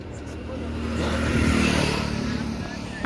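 A tractor engine runs nearby with a low, rumbling drone that swells slightly in the middle and then settles, heard at a moderate level.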